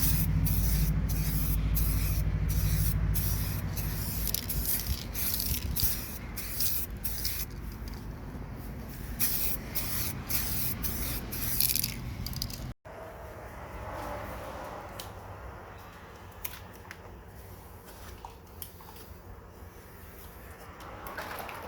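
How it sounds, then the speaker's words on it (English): Spray gun laying down 2K clear coat: a continuous close hiss that runs unbroken, cuts off briefly partway through, then resumes slightly softer with faint clicks and handling noises. "So I'm also testing it to see how it sprays"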